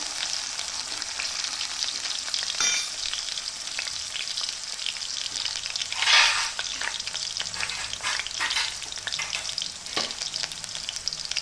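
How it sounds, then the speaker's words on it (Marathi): Potato pieces frying in ghee over a low gas flame for sabudana khichdi, a continuous close hissing sizzle with occasional brief louder crackles and stirring, no talk. "कमी गॅसवरती छान आपला बटाटा थोडा फ्राय करून घेते।"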